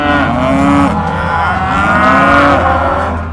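A bull lowing loudly and close, one long continuous moo that swells and falls over a few seconds, heard alone without talk.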